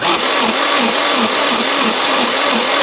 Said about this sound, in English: you can see the sound of the blender when it was hard, that the blender was really struggling to blend that